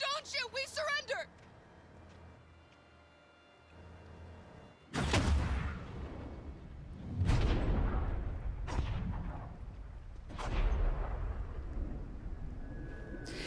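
Heavy gunfire bursts in the Battle for Detroit sequence of the Detroit: Become Human video game, several loud booming shots at intervals after a stretch of quieter ambience, with a brief voice at the start.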